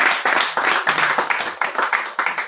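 A church congregation at a deliverance service claps in a fast, steady rhythm, loud and close, forming dense bursts of applause without audible speech.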